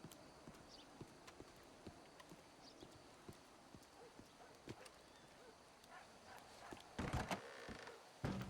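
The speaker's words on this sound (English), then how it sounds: "There's a bunch of horses around here." Several horses clip-clop in the WildRP roleplay game: a steady scatter of hoof taps at moderate distance, with a louder burst of clattering movement near the end.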